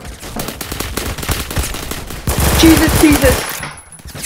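Rapid, loud bursts of gunfire from a shotgun in a video game, volleys coming in quick succession, with a player's exclamation over them.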